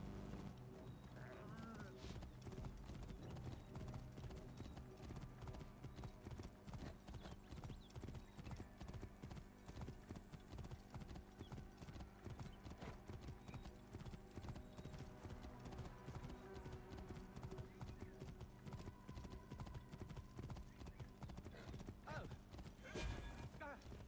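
Rapid, rhythmic hoofbeats of a galloping horse in a video game pound steadily throughout, faint and continuous, with occasional snorts and quiet talk in the background.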